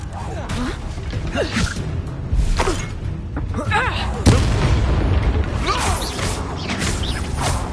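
Spell blasts and impacts from the Hogwarts Legacy video game during combat, a string of booms, shattering bursts and mechanical clatter over a constant rumbling bed, with voices shouting in between.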